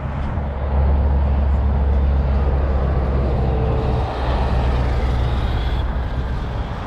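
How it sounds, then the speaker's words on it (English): An Arrma Kraton 12S 1/5 scale RC car drives nearby with a steady, loud, broadband motor whine and rushing drone that holds for several seconds, briefly dipping midway. "Let my girlfriend drive my 1/5 scale Kraton 12S for the first time"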